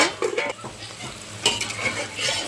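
Curry is stirred in a pan, with scraping and clinking of a spoon against the metal over a soft sizzle, close and irregular, with no voices.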